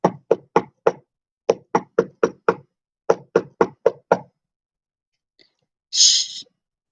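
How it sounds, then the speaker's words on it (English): Knuckles rap on the wooden door of a tiny cottage in the woods in three quick bursts of about four knocks each, close and crisp, followed by a short breathy rustle. "She knocked at the door."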